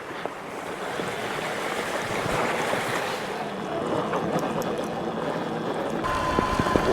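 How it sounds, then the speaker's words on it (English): Hard rain pours down around a rider on an electric scooter, making a dense, steady hiss that swells slightly and stays constant throughout, with no talking. "it's raining hard."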